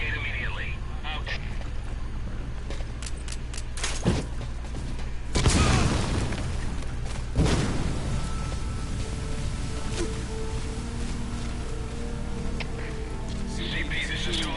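Explosions in the stealth game Metal Gear Solid V, a heavy blast near 5.5 seconds and a second boom near 7.5 seconds, each with a rumbling tail over steady ambient game noise and rain.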